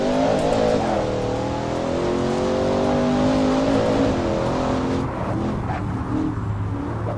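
Racing cars in a BeamNG racing simulator roar continuously on a racetrack, loud engine tones rising and shifting with revving, with a slight drop in intensity near the end and no talk.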